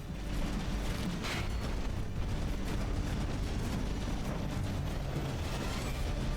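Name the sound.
battleship guns firing in the video game From the Depths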